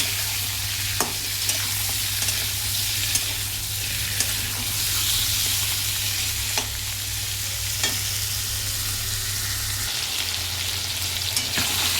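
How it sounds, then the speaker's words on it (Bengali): Chicken pieces frying with onions in a pan, a steady close sizzle with occasional stirring clicks and scrapes throughout, loud and continuous with a low hum underneath. "এবারে এর মধ্যে আমি চিকেনটা দেব, দিয়ে একটু ভাজা ভাজা করব"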